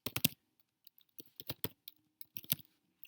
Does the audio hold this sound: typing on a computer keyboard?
yes